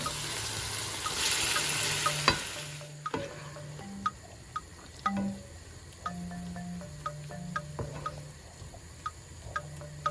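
Mutton mince cooks in a pan, a quiet sizzle fading early while a spoon scrapes and taps against the pan in irregular clicks, with faint low tones underneath and no one speaking.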